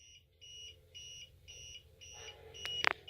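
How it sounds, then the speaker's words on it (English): A UPS battery backup, about half drained during a power outage, gives a shrill electronic beep repeating at a steady, quick rhythm over a low hum, close by, with a sharp click near the end. "This thing's been beeping crazy for like 5 minutes or so."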